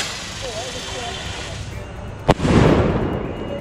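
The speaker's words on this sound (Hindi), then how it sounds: "और अब चलाते हैं सूर्या बॉम की सुतली को, जो कि ईगल ब्रांड की है।" An Eagle brand Surya bomb firecracker goes off outdoors at Diwali with a single sharp, loud bang, followed by a crackling, rumbling wash of debris and echo over steady background noise.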